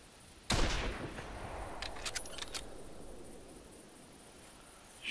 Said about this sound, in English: Now we're going to shoot a loud weapon.